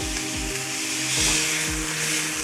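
A bone-in beef cutlet sizzles on a hot griddle right after being flipped, a steady close frying hiss with a few low thumps from handling the meat.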